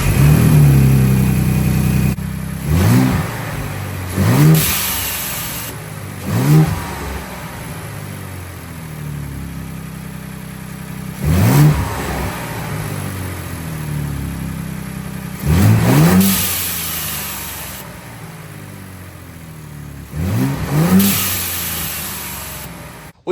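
Ford EcoBoost engine after an inexpensive modification, starting up and then revved repeatedly: about six sharp rising revs with falling returns, separated by stretches of idle rumble, nearby and fairly loud, no talking.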